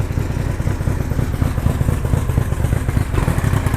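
Old outboard boat motor running with the choke off and a misfire, a loud close rough engine drone with an uneven, stuttering pulse, no talking.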